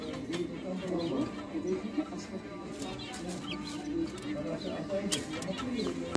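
Small birds at a bird and fish market in the Netherlands: a dense, continuous chatter of chirps and short calls from many birds, moderately near, with someone talking throughout.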